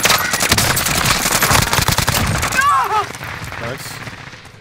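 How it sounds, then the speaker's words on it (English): Rapid automatic gunfire from a Call of Duty Warzone Resurgence match, dense bursts rattling loudly through the first half and easing later, with voices chatting over the action. "Sustaining fire."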